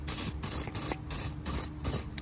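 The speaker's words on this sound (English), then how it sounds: "take this back out and spray down inside the boot with it as well" Lubricant sprays down inside a car's shifter boot in six short, evenly spaced hissing bursts, close and crisp with brief gaps between.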